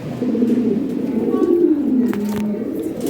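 Lahori Shirazi pigeons coo steadily at a market stall, a low continuous rolling murmur from several birds close by, with no talk over it.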